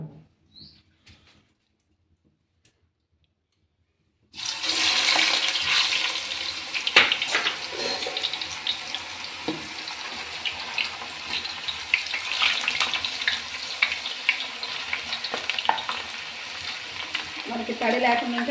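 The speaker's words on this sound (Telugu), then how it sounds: "ఇంకా నూనె అయితే బాగా కాగింది. ఇంకా ఇప్పుడైతే మనం చిప్స్ వేద్దాము." Homemade potato chips dropped into hot cooking oil: after a few seconds of near silence a loud, sudden sizzle erupts and continues as a steady, crackling hiss close by.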